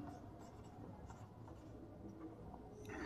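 Marker or chalk writing on a board while working out an electrochemistry half cell reaction, a soft continuous scratchy stroking sound under a steady room hum, with no talk.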